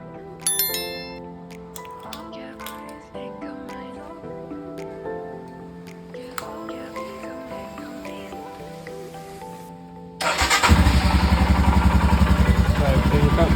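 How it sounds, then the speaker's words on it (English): A Royal Enfield Himalayan motorcycle engine starts up after a long stretch of quieter tinkering and clicks, then settles into a loud, steady, close thumping run that carries on to the end. "Now let's start the bike."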